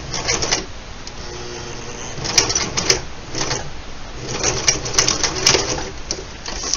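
A sewing machine stitches over a vinyl zipper in short bursts of rapid mechanical whirring, stopping and starting several times, with small clicks between runs.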